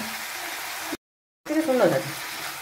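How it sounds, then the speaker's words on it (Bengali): Mutton fat frying with spice masala in a pan for ghugni, a soft steady sizzle that cuts out briefly, then returns with louder crackling and stirring. "সেই চর্বিগুলো কিন্তু দিয়ে ভালো করে আরও মিনিট 10 মতো এটা কিন্তু আমি কষে নেব"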